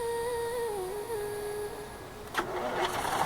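A tractor engine in Farming Simulator 19 cranks with a whining starter tone that falls slightly, then catches with a rougher rumble that builds steadily. No one talks.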